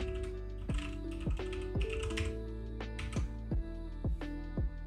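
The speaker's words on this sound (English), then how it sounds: "then we can type in our password." Keys on a computer keyboard tapped in a quick, uneven run while entering a password, crisp close clicks with a few brief pauses, no voices.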